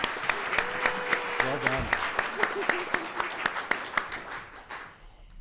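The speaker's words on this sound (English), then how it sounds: "Another round of applause." Audience applause at the 2018 Alaska State Poetry Out Loud finals, steady clapping through the clip as a winner is named, with a host's voice and cheers mixed in and a brief spoken word near the end.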